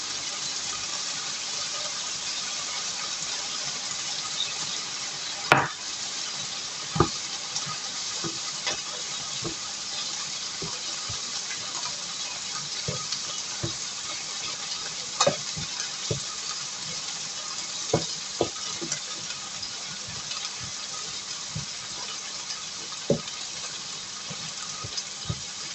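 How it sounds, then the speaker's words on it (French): Chicken Thai rice with vegetables simmers in a pan after a splash of water, giving a steady low sizzle and bubbling hiss with scattered sharp clicks and knocks throughout. "Je vais laisser mijoter tout ça tranquillement."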